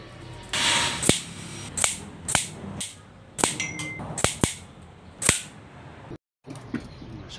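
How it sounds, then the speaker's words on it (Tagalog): Sharp, loud cracks from a V-13 airgun firing in a steady series of separate shots, each ringing briefly, with mechanical clicks between them. "So 10 shots yan mga lodi."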